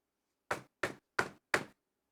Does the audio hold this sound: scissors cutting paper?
no